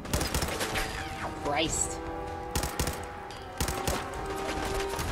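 Machine gun turrets fire in bursts in Fallout 4, sharp rapid shots breaking out in several clusters across the scene while someone talks and curses over the gunfire.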